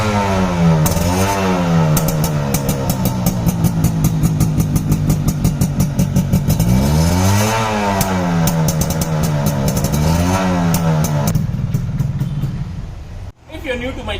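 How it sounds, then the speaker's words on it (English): A 1983 Suzuki AX 100 single-cylinder 100 cc motorcycle, kick-started and then running, with a close, loud, steady buzzing two-stroke idle that rises and falls in a few throttle blips before cutting off abruptly near the end. "Let's start this motorcycle and show you how this sounds even today."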